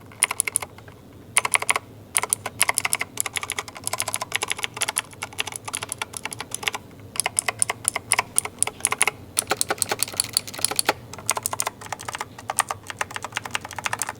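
Fast typing on a Razer BlackWidow V3 TKL mechanical gaming keyboard with tactile, clicky switches, giving close, crisp rapid clacks in bursts with short pauses between them.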